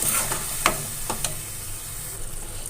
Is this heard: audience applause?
no